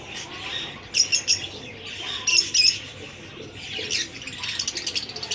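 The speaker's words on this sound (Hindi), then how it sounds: "ये तोते हैं" Pet parrots kept at home give short, sharp chirps and squawks in a few scattered bursts, fairly close, over a low background hiss with no talking.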